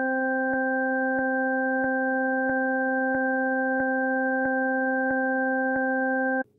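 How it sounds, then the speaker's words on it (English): Slowed-down steady electronic tones for an audio illusion, one ear's tone going high while the other's goes low and vice versa, forming a sustained pure-tone chord with regular soft clicks about every 0.65 seconds, ending abruptly. "When the tone for one ear goes high, the other goes low, and vice versa."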